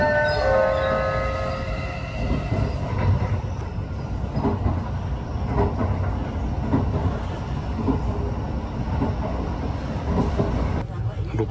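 Inside the Shirasagi limited express train as it runs on rails at night, a steady loud rumble with rhythmic clicking of the wheels; a voice speaks over it.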